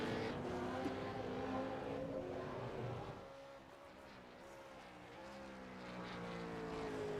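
V8 Supercar race cars in the iRacing sim on the Chicago street circuit drone past with layered engine tones rising and falling, several cars at moderate distance, steady and fairly quiet throughout.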